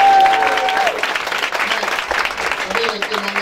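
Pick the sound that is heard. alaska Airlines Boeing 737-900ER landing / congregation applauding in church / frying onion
congregation applauding in church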